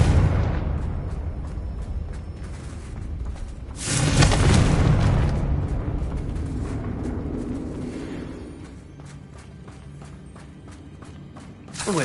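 Confringo fire spell explosions in the video game Hogwarts Legacy, a loud, continuous low rumble of booming blasts that swells in the middle and fades slowly, with no talk over it.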